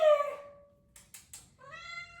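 A cat meows twice close by, the first a drawn-out tonal call, the second shorter and rising, with a few soft rustles between them.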